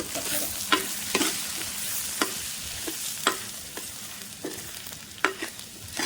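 Ground spice powder sizzling and frying in a pan for a coconut milk curry with spondias fruit, with a steady hiss broken by several sharp clicks and scrapes of stirring, close and moderately loud, no voices.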